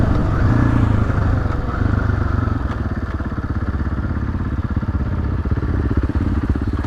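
Dirt bikes ride along an off-road trail, one engine close and loud with a fast, steady pulsing buzz that rises slightly and then holds, with light clatter over it.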